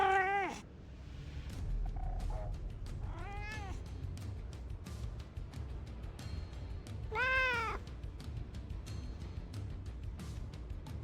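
A cat meows several times, drawn-out wavering cries at the start, middle and near the end, heard close over a steady background hum.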